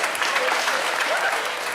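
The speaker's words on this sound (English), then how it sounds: "let's have one more big round of applause for the groom and his mother" Wedding guests at a barn reception at Gibbett Hill in Groton, Massachusetts break into a dense, steady round of applause for the groom and his mother, loud and sustained with no talking over it.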